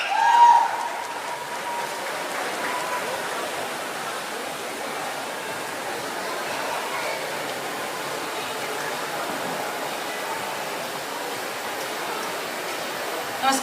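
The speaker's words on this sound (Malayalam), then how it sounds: "ഒരു ഗംഭീര കയ്യടി" An audience at a Kochi film press meet for Thug Life gives a sustained round of applause, a steady wash of clapping that holds evenly throughout, with a brief louder swell at the start.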